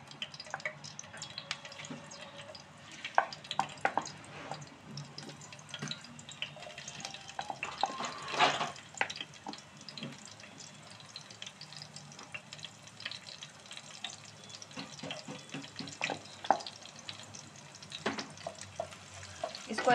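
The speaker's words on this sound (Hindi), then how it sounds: "हरी मिर्ची भून जाएगी" Green chillies frying in a pan for Maggi hakka noodles, a quiet continuous sizzle with irregular spatters and scraping stirs, one louder crackle midway, heard close without talk.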